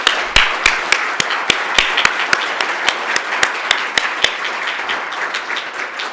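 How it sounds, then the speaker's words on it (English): Applause at a school's State of the School event for its students: steady, evenly spaced claps ring out in a clear regular rhythm for several seconds, fairly loud, with no talking over them. "we should give them a round of applause"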